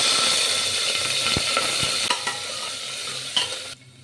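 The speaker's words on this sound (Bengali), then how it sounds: "দিয়ে দিচ্ছি সাদা তেল, দেব দারচিনি, এলাচ ফোড়ন" Cinnamon and cardamom temper in white oil and a little ghee, a dense close sizzle with a few sharp ticks and spoon taps. It cuts off abruptly near the end.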